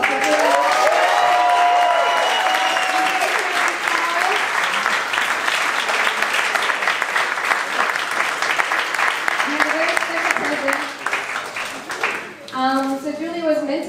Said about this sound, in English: Can I get a big round of applause for you?